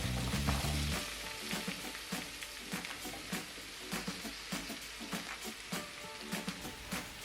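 Cut okra pieces, washed and dried, drop into hot oil and fry with a loud, steady sizzle, starting with a heavy burst and then settling into crackling with frequent pops and light stirring clatter.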